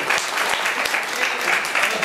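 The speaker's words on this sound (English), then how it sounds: "give a round of applause for that" A convention panel audience in Toronto applauds with a steady, dense wash of clapping for about two seconds.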